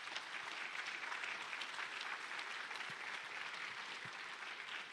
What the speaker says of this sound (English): So let's take a second and applaud them.